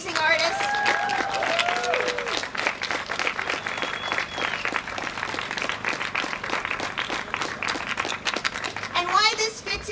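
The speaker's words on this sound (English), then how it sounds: "Can we have a round of applause for an amazing artist?" Audience applause for a mural artist at a public community event, a steady wash of clapping from a crowd lasting the whole stretch, with some voices and a child's speech audible within it.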